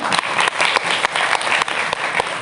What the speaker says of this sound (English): Give a hand of applause to Dr. S.P. Maurya.